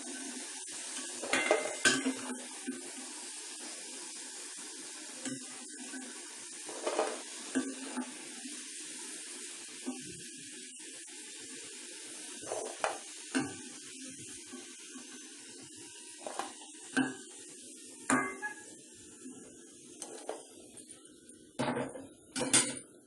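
Potato pieces for aloo 65 fry in hot oil with a faint, continuous sizzling hiss, broken by scattered sharp clanks and scrapes of a utensil against the pan.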